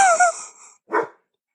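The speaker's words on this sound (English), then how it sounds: "he's barking at something" Milo the dog gives a bark or two up close, a sharp call followed after a short gap by a second shorter woof, then silence.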